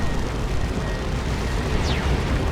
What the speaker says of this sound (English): Decent plasma cannon shot there.